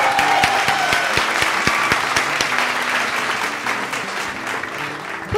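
Audience applause at a live songwriters' music showcase in an Austin saloon, steady clapping with some cheers throughout, close and fairly loud, with a brief music note near the end.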